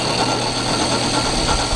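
Steady loud whir and rumble of a wood lathe turning a piece of Sapele wood, held on a Nova 3G chuck, with a dense continuous grinding texture throughout.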